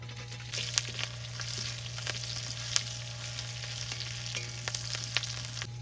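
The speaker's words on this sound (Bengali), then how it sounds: "রসুন আর কাঁচা লঙ্কা চিরা হালকা ভেজে নিয়েছি।" Garlic and slit green chilies sizzle steadily in hot oil while frying lightly, with scattered sharp crackles and pops over a low hum.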